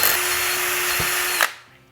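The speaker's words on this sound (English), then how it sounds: "Next I'm going to drill out our strain relief holes and a hole so we can use it for hanging." A power drill boring strain relief and hanging holes for a DIY 10 meter dipole antenna, a steady loud whine running about one and a half seconds before cutting off and spinning down.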